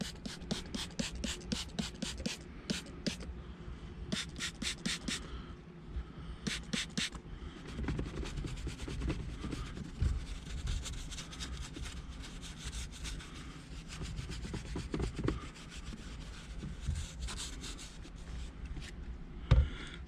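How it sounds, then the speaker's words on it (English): Microfiber cloth wiped over a car's interior surface after cleaner, close rhythmic rubbing strokes in quick bursts then a steadier scrubbing swish, quiet, with no talk. "Just take any kind of microfiber, wipe it over."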